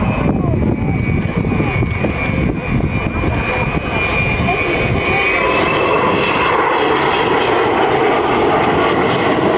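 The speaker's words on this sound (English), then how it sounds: "the man in charge in the aircraft on the far side of the airfield, Vulcan XM607. Coming back in towards us now" Avro Vulcan XM607 B2 bomber flying back in toward the crowd at an airshow, a loud, steady jet roar with a faint rising whine running through it, heard alone without a break.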